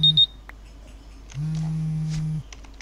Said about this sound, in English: Oh, this is my phone.